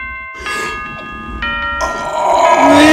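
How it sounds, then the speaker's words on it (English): Bell chime in a horror video game marking the end of the night, a bright ringing tone with sustained harmonics sounding alone, followed by a swelling game sound. "That bell is the greatest sound known to me"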